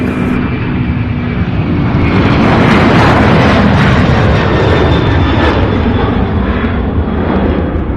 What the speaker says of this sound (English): All right, off to Phoenix, Arizona, UPS 2876.